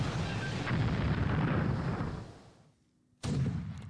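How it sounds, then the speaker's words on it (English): Deck gun fire in a naval battle in the video game War in the Pacific: a long, loud roaring blast that fades, a brief lull, then another abrupt boom. "now we're just in a deck gun duel against a Japanese cargo ship"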